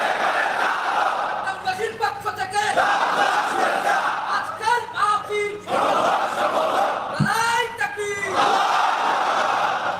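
A large gathered crowd at a religious sermon loudly chants the takbir, Allahu Akbar, in repeated unified shouts, with swelling roars between calls.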